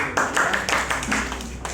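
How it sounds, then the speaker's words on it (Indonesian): Clapping from a class of students after group one presents in a school lesson, a steady run of sharp, close hand claps lasting a couple of seconds. "Tepuk tangan untuk kelompok 1."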